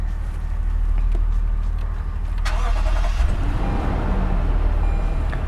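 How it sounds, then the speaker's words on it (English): 2020 Toyota Land Cruiser engine starting with keyless push-button ignition, a steady near idle rumble with a brief chime and a crank swell midway, with no talking. "I'm just going to turn on the car"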